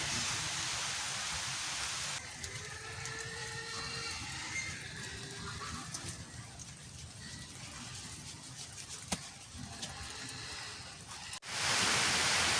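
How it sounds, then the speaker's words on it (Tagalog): Rain falls during outdoor weeding and grows heavier, a steady hiss of moderate level that stays constant for most of the stretch, then swells louder near the end. "Palakas ng palakas na yung ulan."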